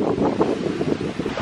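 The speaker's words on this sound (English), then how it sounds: "It's so windy." Strong wind buffets a beach in Goa during a storm, roaring steadily with gusty surges and microphone rumble, alone with no voices.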